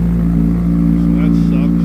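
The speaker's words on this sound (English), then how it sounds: "The Hayabusa's going. So we got a rumble." Suzuki Hayabusa motorcycle engine rumbling at a steady idle, a deep, even drone that holds close and loud for the whole two seconds with no revving.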